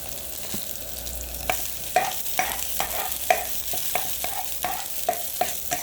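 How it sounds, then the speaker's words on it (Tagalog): Canned meat sizzling in a pan over a charcoal fire while being stirred, with a steady soft sizzle and repeated scraping clinks of the utensil every half second or so, close and moderately quiet. "Nasa uling ako nagluluto ngayon."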